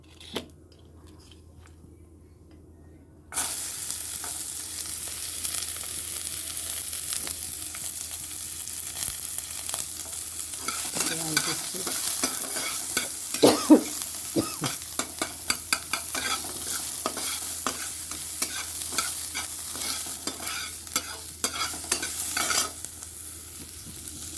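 Black cumin and a dried red chilli sizzle in hot oil for a dal tempering, a steady close crackle that starts suddenly and continues with scraping stirs through the middle.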